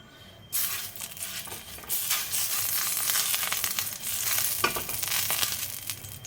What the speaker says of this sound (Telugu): బాగా కాల్చాలి పెనాన్ని కొద్దిగా నూనె వేసిన తర్వాత